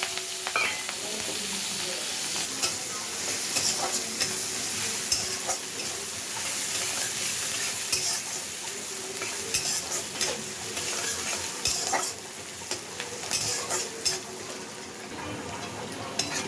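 Onions and green chillies frying in oil tempered with black cumin and dried red chillies, a steady crackling sizzle with occasional stirring scrapes, close and continuous.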